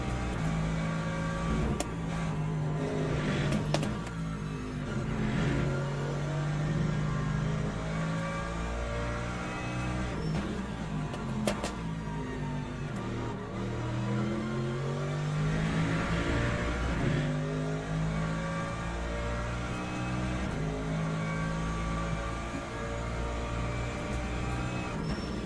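A Mercedes race car in Le Mans Ultimate, its engine revving up and down through the gears in a continuous close drone with repeated rising and falling pitch sweeps as it brakes and accelerates through corners.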